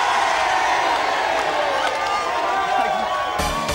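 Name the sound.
crowd of people cheering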